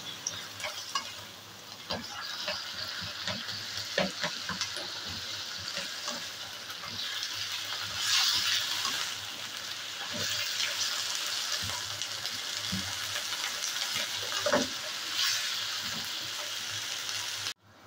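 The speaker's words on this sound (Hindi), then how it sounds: "ये हम इसको थोड़ा सा फ्राई करेंगे" Pieces of food with chili sauce fry in a pan, giving a steady sizzle with occasional stirring clicks and scrapes throughout.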